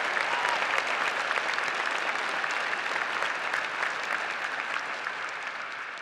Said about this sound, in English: let's give a round of applause to all the family members who brought us to today.